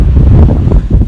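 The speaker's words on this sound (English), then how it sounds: "It's a bit windy and hectic up there." Strong wind buffets a mountain peak in Greece, a loud, low rumbling roar over the microphone in a short burst.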